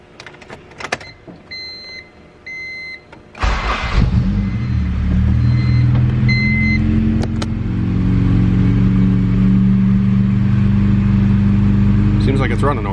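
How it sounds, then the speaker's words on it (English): Chimes and clicks, then a Honda K24 engine in a sedan running on E85 cranks and catches, settling into a steady, loud, rich-running idle rumble that continues to the end. "I'm going to start the car"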